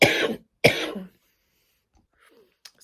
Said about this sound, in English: I had a coughing fit